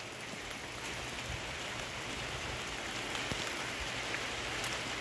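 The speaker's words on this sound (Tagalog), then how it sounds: "Ayan yung ulan oh." Steady rain falls outdoors near a tomato garden, a dense, even patter of drops on surfaces that holds at a constant, moderate level throughout with no voices.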